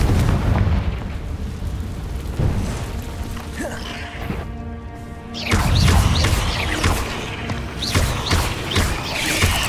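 Confringo and Incendio spell blasts from Hogwarts Legacy, booming fiery bursts that erupt repeatedly in a cave, with a short lull before another loud crackling blast and rumbling aftermath.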